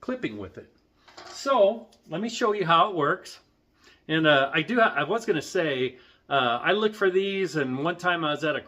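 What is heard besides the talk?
No everyday noises stand out.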